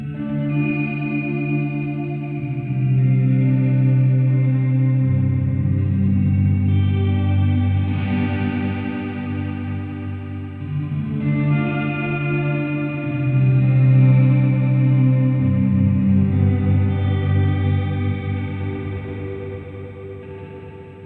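Electric guitar through a Hotone Ampero Mini multi-effects unit with only reverb engaged, playing sustained chords that ring into a long, washy tail, steady and loud throughout with no talking.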